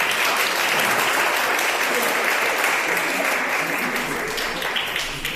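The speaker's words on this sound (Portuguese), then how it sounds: "aplaudam a Jesus" A church congregation applauds steadily and loudly at a worship service, dense clapping filling the whole stretch with a faint voice or two mixed in, tapering slightly at the end.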